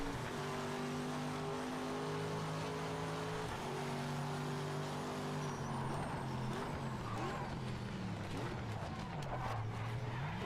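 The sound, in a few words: Corvette race car engine in video game Project Motor Racing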